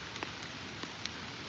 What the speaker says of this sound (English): It's been raining all day long, guys, all day long